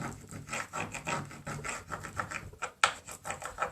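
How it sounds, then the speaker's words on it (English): A lighter scratches and rubs back and forth along the top of a wooden growth chart, close rhythmic rasping strokes of roughly even tempo, with a sharper click near the end. "just scratch along the top, rub it down"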